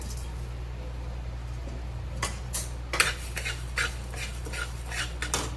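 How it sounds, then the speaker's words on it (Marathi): Whole coriander seeds go into a pan and are stirred, giving a run of light, close scraping clicks over a steady low background hum. "नंतर आता आपण त्यामध्ये जे धणे घेतले होते अख्खे धणे ते आपण घालून घेऊया."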